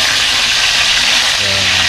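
Fish pieces fry in hot oil, giving a loud, continuous bright sizzle close up, with faint low clatter underneath.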